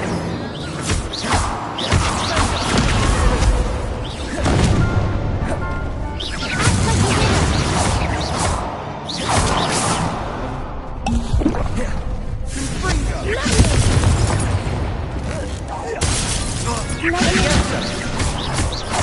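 Repeated Incendio fire spells cast in the Hogwarts Legacy video game, loud whooshing bursts and crashes following one another in waves over busy game action.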